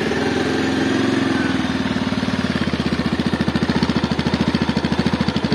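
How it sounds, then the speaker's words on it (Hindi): A Bajaj Avenger 160 Street motorcycle, BS6 E20 model, idles close by after being started: a steady low engine rumble that settles into a distinct rapid, even thumping pulse, with no talk over it. "तो इस बाइक का साउंड लोड भी सुना देता हूँ कि इसका आवाज़ कैसी है इस बाइक की"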